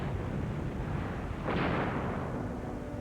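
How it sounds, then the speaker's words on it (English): A massive volcanic explosion of steam and ash near Armero comes as a single deep rumbling burst that swells over a constant roaring wash of noise. "On November 13th came the first massive explosion of steam and ash."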